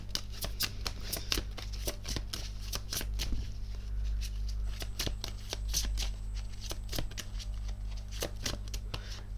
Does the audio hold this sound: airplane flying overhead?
no